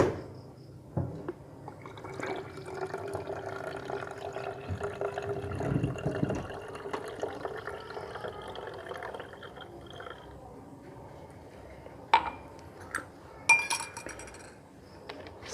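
Zeolite water poured into a glass container and mixed with a solution, with glassy clinks, trickling liquid and a few sharp taps near the end, close and fairly quiet, no voices.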